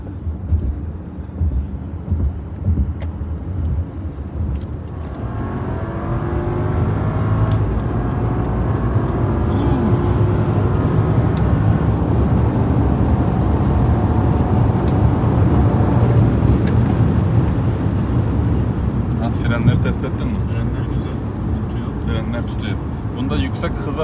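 A BMW 760 driving on an open road, a loud steady engine and tyre roar heard from inside that swells after a few seconds and holds, with occasional small knocks over it.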